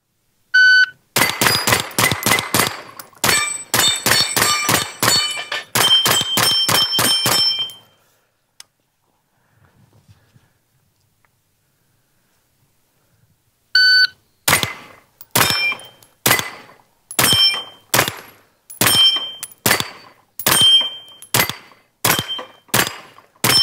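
Davinci DG-9 pistol caliber carbine firing rapid strings at steel targets on a shooting range, sharp close cracks mixed with ringing metallic pings, in two bursts separated by several seconds of near silence.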